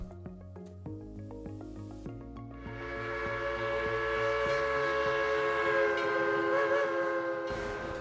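A steam locomotive on a small-town railroad, its engine chuffing in a steady rhythm that builds into a loud, sustained whistle-like drone of several tones riding over the running noise.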